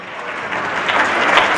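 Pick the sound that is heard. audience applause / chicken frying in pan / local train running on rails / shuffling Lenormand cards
audience applause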